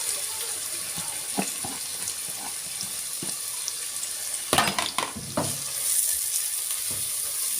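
Onions sizzle and fry in a pot as the base for a budget Egyptian-rice kabsa with chicken wings, a steady close hiss broken by a few stirring clatters and scrapes, with no talking.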